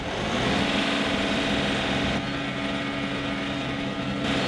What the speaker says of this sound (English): I'm gonna turn the idle up, turn the throttle up, let it run for a little bit